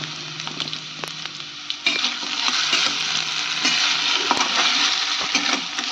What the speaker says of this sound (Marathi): तर इथे छान असं मिरच्या तळत आल्यानंतर मग ते बटाट्याची फोडी आहेत तर ते टाकून घेतले.